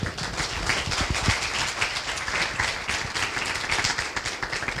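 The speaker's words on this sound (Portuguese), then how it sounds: "eu peço mais uma calorosa salva de palmas" Warm applause from an audience at a lecture event, a steady wash of many hands clapping at even volume throughout, fairly close and without any voices over it.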